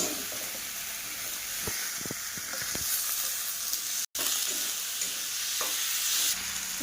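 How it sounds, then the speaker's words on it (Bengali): A spice paste sizzles steadily in a hot pan while a spatula scrapes and stirs it with repeated rubbing knocks. "এই মশলাটাকে একটু ভাজা ভাজা করি"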